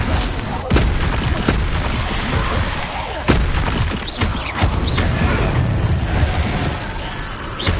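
Repeated fiery spell casts of Incendio in Hogwarts Legacy, sharp whooshing bursts and booming impacts scattered through dense, noisy combat sound, loud and close.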